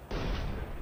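Single sniper rifle shot in the mobile battle royale game PUBG Mobile, a sharp sudden crack followed by a short fading boom, fairly quiet.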